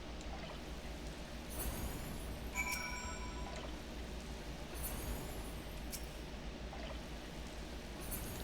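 Crops being watered in Final Fantasy XIV, a steady pouring, trickling water sound running throughout with occasional faint chimes and clicks from the game, no talking.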